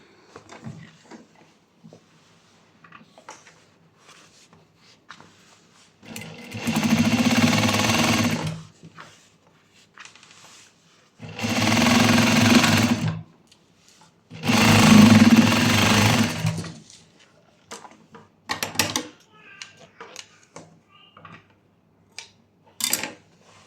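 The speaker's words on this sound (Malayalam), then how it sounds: "ഫുള്ളായിട്ടൊന്ന് മടക്കി തയ്ക്കാം" Sewing machine stitching folded fabric scraps in a tailoring shop, three bursts of fast rattling needle action a few seconds each, separated by quiet pauses with small handling clicks.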